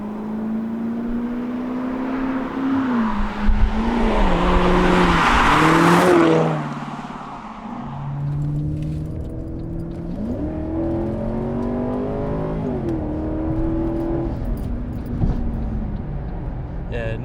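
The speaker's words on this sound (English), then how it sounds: "nothing else sounds like a Chevy" The Chevrolet V8 engine of a Holden VXR8 revs hard and loud, climbing and dropping in pitch with a brief whooshing surge, then settling into a lower, rumbling throttle.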